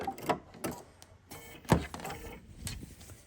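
A sewing machine fitted with a freehand embroidery foot #24 stitches a quarter-inch seam to gather fabric, making close, intermittent bursts of mechanical whirring and clatter.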